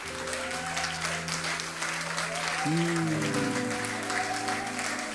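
Congregation clapping together during a French-language Sunday church service, a steady dense wash of applause throughout with sustained music tones running underneath.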